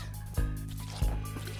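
Water from a bucket trap drips onto a person's head as two heavy, close, wet drops land about half a second apart over a low, steady background.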